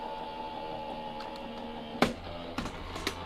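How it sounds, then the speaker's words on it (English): A die cutting machine runs with a steady mechanical hum and whir, then gives a few sharp clunks and clicks near the end, close by with no talk. "we do want to use our die cutting machine again"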